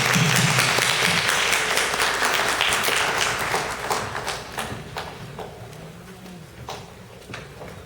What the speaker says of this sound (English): Y'all clap as she come down.